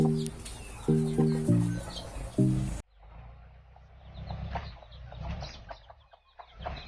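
Farm chickens on a Thai homestead, a hen giving several loud close clucks in short bursts, followed by quieter scattered clucking and rustling.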